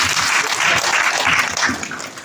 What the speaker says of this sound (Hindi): आप सभी की जोरदार तालियां सुरेंद्र भैया जी